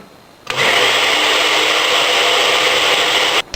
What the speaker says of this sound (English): Well, that grind took a long time. Them are some tough little seeds.